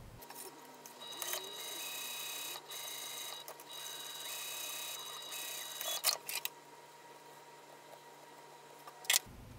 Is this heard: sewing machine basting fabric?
yes